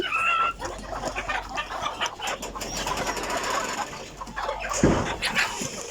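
Chickens cluck and call around a poultry farm's laying cage, a busy overlapping chorus of hens with a few sharper calls, fairly close and continuous throughout.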